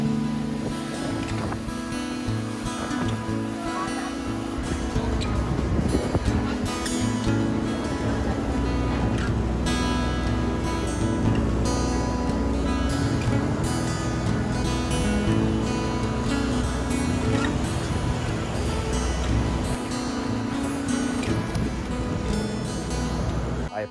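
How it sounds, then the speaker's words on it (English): A steady engine drone and water rush from a boat underway on the ocean, constant and fairly loud throughout with some wind buffeting. "looking forward to another great day on the boat"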